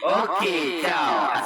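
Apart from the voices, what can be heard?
No everyday noises stand out.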